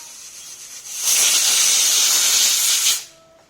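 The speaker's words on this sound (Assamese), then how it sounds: "আৰু 3টা হুইচেল মাৰিব দিম মই ঔটেঙাখিনি সিজিবৰ কাৰণে।" A pressure cooker lets out a single loud hissing whistle of steam while cooking elephant apple with taro for a fish curry. The hiss bursts on suddenly, holds for about two seconds, then cuts off into a quiet kitchen.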